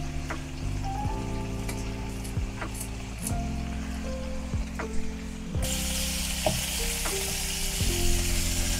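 Split green chilies and a red one fry in a wok of oil, a dense crackling sizzle with stirring clinks and a steady background hum, growing louder partway through; no one speaks.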